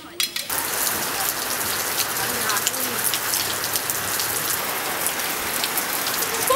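Heavy rain pours down steadily in a sudden rainstorm, a dense, constant hiss of drops beating on surfaces close by, with a brief burst of other noise right at the start.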